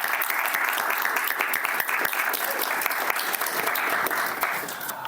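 A university audience at a capitalism-versus-socialism debate gives a debater a big round of applause, a thick, sustained roar of many hands clapping that holds steady before easing slightly at the end.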